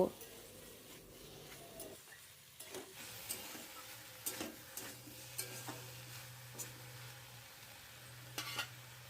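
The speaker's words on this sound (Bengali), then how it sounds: "দু মিনিট পর সবজিগুলোকে আমি একটু নেড়ে নামিয়ে নেব" Cooked bottle gourd curry is stirred in a pan, with soft intermittent scrapes and taps over a faint sizzle, quiet and close, without speech.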